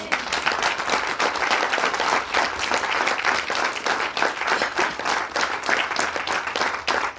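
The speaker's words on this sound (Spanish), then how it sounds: "Dale un aplauso a nuestro Dios" A Sunday church congregation claps in praise, a dense, sustained burst of applause that stays loud and even throughout, with no voices over it.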